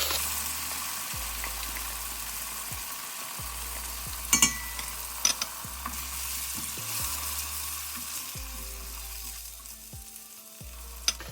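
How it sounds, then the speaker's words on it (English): Crushed canned tomatoes tipped into a hot pan of frying spices for a field bean and aubergine curry, with a steady, dense sizzle throughout, punctuated by a few sharp clicks of stirring and a low background hum. "go ahead and add the crushed canned tomatoes"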